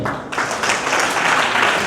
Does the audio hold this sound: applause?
yes